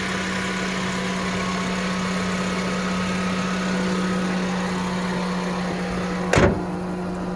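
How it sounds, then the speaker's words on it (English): A 2025 Lexus TX 500h's 4-cylinder transverse-mounted hybrid engine idles with a steady, even hum and drone, near and constant, ending in a brief clunk. "It's a 4-cylinder hybrid"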